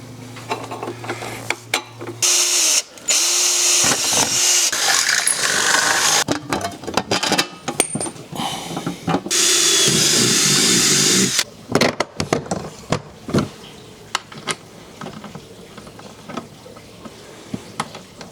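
A power drill drives screws to fix a box onto a rack, whirring in several loud bursts of a few seconds each, separated by pauses and clunking handling noises.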